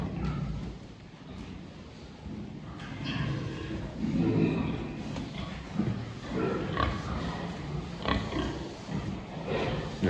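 Five-month-old pigs grunting and snorting close by in a pen, a steady stream of low, overlapping grunts with occasional louder squeals and snuffles.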